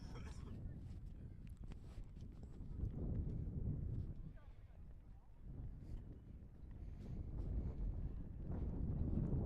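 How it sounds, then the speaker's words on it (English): Wind buffets the microphone at an outdoor high school rugby match, a low rumbling gusty roar that swells and eases, under a commentator's talk. "the wind has actually started to pick up here."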